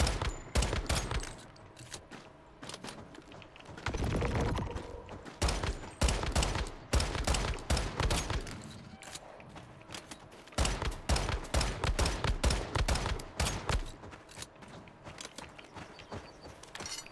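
Gunfire in the game Once Human, rapid sharp shots fired in quick bursts with short pauses, set over mechanical clicks and rattles at moderate volume.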